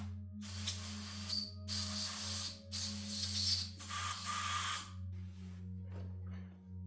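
Spray oil is applied to BMW S54 Vanos solenoid valves in short hissing bursts, four spurts in close succession then fainter trailing puffs, over a steady low electrical hum.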